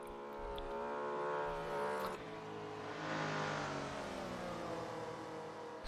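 Race cars from a Goodwood handicap race in a sim racing game, including a big Mustang and a Porsche, roar continuously with engine pitch rising and shifting, loud and close, with no talk.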